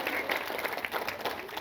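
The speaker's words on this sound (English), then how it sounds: "So let's give the entire Vernon Hills Police Department a round of applause." A crowd at a school gathering applauds a police department with steady, even clapping that holds at moderate loudness throughout, with no voices rising above it.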